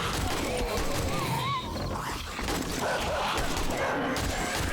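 Zombie dogs growling and snarling in the survival game 7 Days to Die during a day 7 horde night, a steady dense din of animal noise and game effects with a voice talking over it.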